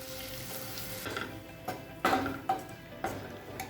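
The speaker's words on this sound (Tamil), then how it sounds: "இப்போ முட்டையை நல்லா வறுத்தாச்சுங்க." Eggs frying in oil in a pan for a Tamil egg kulambu made without coconut, a continuous sizzle broken by several sharp clinks and scrapes of a spoon stirring against the pan.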